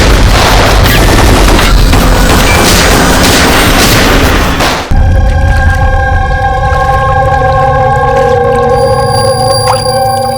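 A rapid, loud burst of gunfire fills a TV crime drama scene for about five seconds, then cuts abruptly to a sustained tonal drone.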